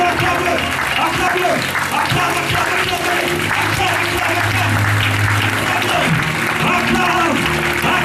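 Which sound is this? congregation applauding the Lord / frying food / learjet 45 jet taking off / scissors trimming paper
congregation applauding the Lord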